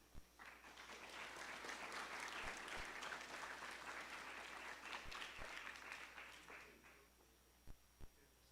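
An audience applauds at an award ceremony for a homecoming event, a warm wash of clapping that builds, holds for several seconds and fades out, with a few sharp thumps near the end.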